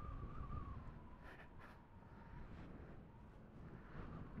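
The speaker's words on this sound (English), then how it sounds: "very windy out here today. I'm sure you guys can hear that." Wind buffets the microphone while riding a 15000-watt Bomber e-bike along an open road, a faint, steady low rumble with slight gusting swells and no speech.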